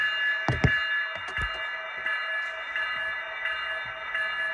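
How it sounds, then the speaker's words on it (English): A steel locomotive bell on an SD60M train in a video game rings in steady repeated metallic tones, with a few low knocks near the start. "No wait, never mind, it is the steel bell."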